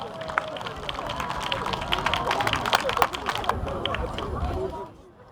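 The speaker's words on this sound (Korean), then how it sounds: "큰 박수를 부탁합니다." Applause from a crowd gathered at the opening of a Korean community sports meet in Germany for Liberation Day, a sustained wash of many distant hands with scattered sharper claps and low chatter, fading out abruptly at the end.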